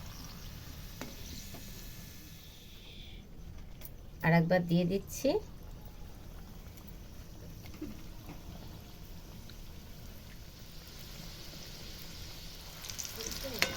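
Bengali-style singhara samosas deep-frying in oil give a soft continuous bubbling sizzle, with a short burst of metallic clatter as pieces are lifted and someone speaking briefly over it.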